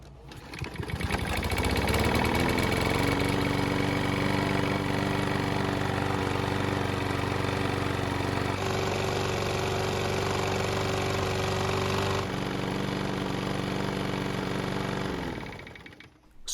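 Lawn mower engine coming to life after winter storage without fuel priming, a buzzing motor that catches within a second or two and runs loud and steady up close for about fifteen seconds before cutting off.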